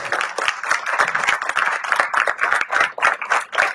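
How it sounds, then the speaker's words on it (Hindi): Audience at a yoga and healthy-living gathering claps for a spiritual teacher, a brisk, uneven run of close hand claps with rhythmic bursts and no talking. "आपकी तालियां बताएं।"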